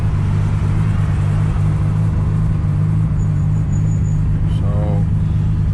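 A Toyota Supra with a freshly replaced differential ring gear drives along, its steady engine and road rumble loud and constant from inside the car, with a voice talking over it.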